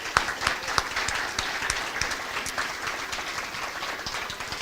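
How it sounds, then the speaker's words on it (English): A round of applause from the audience at an early learning center dedication and ribbon cutting, steady dense clapping from many hands with a few sharper nearby claps standing out, continuing throughout. "Please give them a round of applause"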